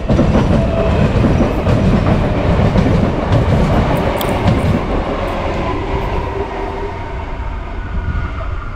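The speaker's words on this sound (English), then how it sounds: "Here's another class 4000 passenger local train." A class 4000 local passenger train bound for Gawler via Salisbury rolls past close by, loud wheel rumble and rhythmic clickety-clack on the rails filling the air before easing slightly toward the end, with no talk.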